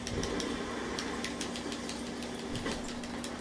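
A crashed motorcycle's engine keeps idling in a video game, a steady mid-pitched drone with a regular ticking pulse that runs unbroken and fairly quiet throughout.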